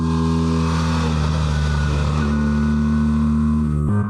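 A BMW R1300RT motorcycle engine drones loudly and steadily up close under manual gear shifting, its pitch holding and slightly shifting before a sharp cut near the end.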